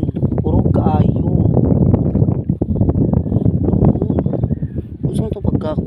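Strong wind roars steadily across an open sea setting near a small boat, a dense, continuous rush with gusty swells, while a person talks over it throughout.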